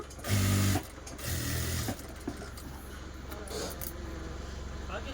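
Sewing machine stitching a folded blouse hook strip in two short bursts, the first loud and brief, the second longer. Low rustling and handling noise follows.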